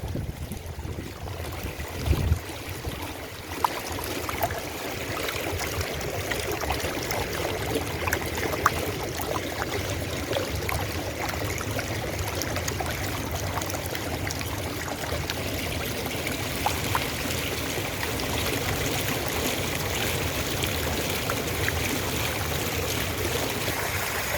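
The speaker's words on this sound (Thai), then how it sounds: "น้ำตกที่ด้านหน้าเซนทันเชียงรายนะครับโอ้โหหลายชั้นมากเลย" A multi-tiered artificial waterfall in front of the Central Chiang Rai shopping mall rushes with a steady, dense splashing roar that continues without a break.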